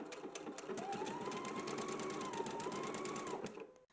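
A sewing machine running a zigzag stitch on a tie, a fast even mechanical chatter of needle strokes close to the microphone, with a brief rising whir in the middle before it stops.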